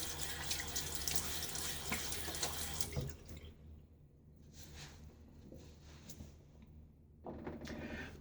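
Tap water runs loudly into a sink, is cut back to a quieter trickle and splashing as hands wet a face before a shave, then flows strongly again near the end.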